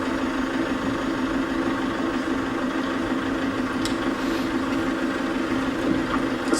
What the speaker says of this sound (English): The sound of the engine, the car's engine.